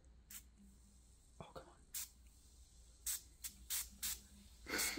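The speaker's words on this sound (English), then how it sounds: "you just spray it with the sour spray." Several short, breathy spritzes from a bottle of sour candy spray, spaced irregularly and growing slightly louder toward the end, with quiet background noise.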